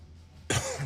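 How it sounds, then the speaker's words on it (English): A single sharp, close cough after a moment of quiet, loud and slightly rough. "Cough right into the microphone."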